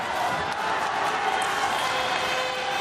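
Crowd at an ice hockey gold medal game in Krasnoyarsk, Russia versus Canada, giving a steady, dense roar of cheering that fills the arena evenly throughout.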